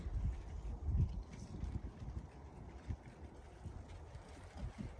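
Gusty outdoor wind in a cold Australian garden buffets the microphone in uneven low rumbling bursts, fairly faint, with no voices.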